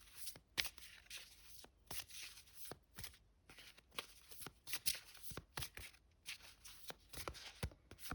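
Tarot cards being shuffled, handled and laid out on a table, with a steady run of soft, papery flicks and snaps close by, repeating quickly for the whole stretch with no voices.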